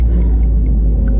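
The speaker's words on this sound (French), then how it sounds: "Oh là là, les mecs, regardez-moi cette voiture." Inside an old taxi in Cairo, the engine gives off a heavy, continuous low rumble that fills the cabin, loud and close, with faint thin noises above it and no talking.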